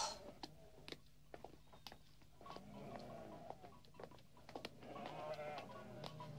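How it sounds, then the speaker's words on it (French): A herd of goats bleats in an Alpine setting, soft scattered calls rising and overlapping toward the end amid light clicks and patter, heard fairly faintly at a distance. "tu parles d'un troupeau de chèvres"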